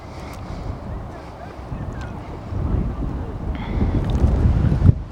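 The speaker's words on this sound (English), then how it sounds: "And it's very windy." Strong wind gusts roar and buffet the microphone outdoors at an allotment, a dense low rumble building louder toward the end with no speech over it.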